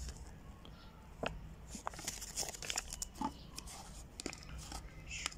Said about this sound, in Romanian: Vine cu un pliant lucios, pe hârtie lucioasă.